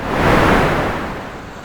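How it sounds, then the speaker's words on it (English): Water bursts over a small sailing boat as it hits the waves sideways, a loud rushing crash that peaks early and then washes away into a fading hiss. "Peterson's inattention allows the waters to burst over the boat as it hits the waves sideways."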